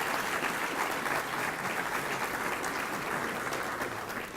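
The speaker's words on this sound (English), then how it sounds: "give a round of applause for our new board of directors" An audience at an ethics awards ceremony claps for the new board of directors, a dense, even wash of applause that holds steady and fades slightly at the end.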